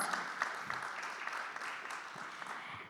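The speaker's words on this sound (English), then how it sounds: "Let's give him a big round of applause." Audience applause for a guest speaker at a marketing conference session on CMOs and CFOs, a steady wash of clapping from a moderate-sized room lasting the full stretch, fairly even with scattered sharper claps and no voices on top.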